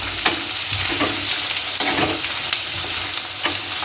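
Roasted peanuts fry and sizzle steadily in hot oil for a Kalaburagi-style chivda, with occasional sharp pops and stirring scrapes breaking through the constant crackle; no talking.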